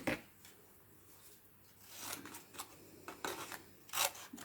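Scissors cutting out a stamped cardstock shape, with quiet close snips and paper rustle that get louder in a few sharp cuts near the end.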